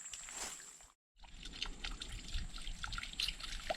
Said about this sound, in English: We got a leaky frost free right here.